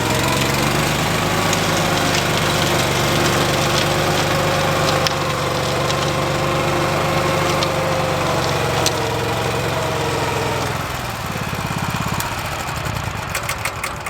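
A lawn mower engine runs steadily and loudly nearby on a no-till farm in Kentucky, holding an even drone before its pitch dips and roughens near the end.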